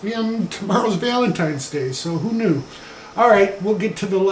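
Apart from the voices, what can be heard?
No everyday noises stand out.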